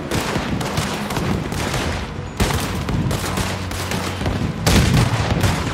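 Dense, continuous gunfire and cannon blasts from a Red Dead Redemption 2 battle, loud and relentless for the whole stretch with heavier bursts near the middle and end, no talk.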